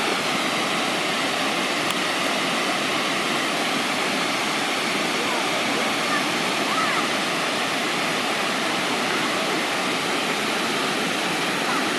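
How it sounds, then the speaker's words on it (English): Water pours steadily through the floodgates of Deer Creek Dam beside a historic mill in Maryland, a loud, unbroken broadband rush with no pauses, roaring on close by for the whole stretch. "here is the Deer Creek Dam, complete with floodgates"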